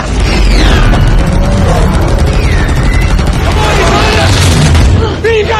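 Alien guns fire in a Transformers movie chase, with loud, dense bursts and booming blasts running throughout, mixed with voices and action-scene noise.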